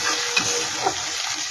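Ginger, garlic and green chilli fry in a pan for pasta, a steady, close sizzle with a couple of faint stirring scrapes.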